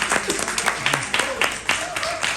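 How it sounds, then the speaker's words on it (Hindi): A London audience applauds during a humorous Hindi talk, steady moderate clapping from the crowd with a voice sounding faintly over it. "तालियां बजनी चाहिए उनके लिए।"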